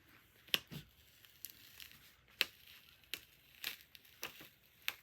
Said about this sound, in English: Now this one is cold and I'm going to peel the backing.